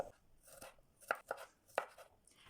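Knife chopping three garlic cloves for a Turkish olive-oil broccoli dish: a handful of sharp, uneven chops on a board, fairly close and quiet, with no talk.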